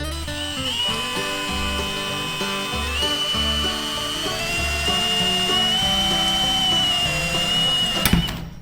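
A steady, high-pitched whine of a power drill runs continuously, shifting slightly in pitch, then cuts off abruptly near the end.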